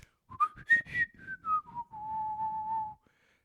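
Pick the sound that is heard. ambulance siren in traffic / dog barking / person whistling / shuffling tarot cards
person whistling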